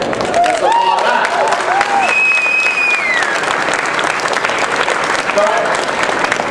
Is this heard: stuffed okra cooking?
no